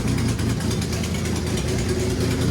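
A twin-turbo 1965 Mustang wide-body hot rod engine idles with a loud, steady, rumbling drone and fast lumpy pulsing, running on its own without talk.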